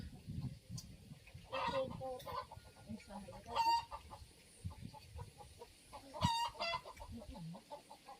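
Chickens near a rice-field hut cluck and call in repeated short bursts, with a sharper crow-like cry or two, some near and some farther off. People talk quietly between the calls.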